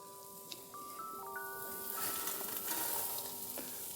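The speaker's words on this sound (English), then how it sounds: "we're just going to drop this into the corned beef, straight into it" Air-fried potatoes land in a pan of frying Filipino corned beef, setting off a steady close sizzle and hiss that swells as they settle, with a few light scraping stirs over the constant crackle.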